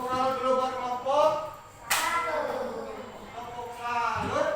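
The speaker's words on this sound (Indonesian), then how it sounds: "Tepuk tangan dulu buat kelompok." A group of children in a classroom applauds in short bursts of clapping, mixed with a teacher speaking and a few sharp slaps.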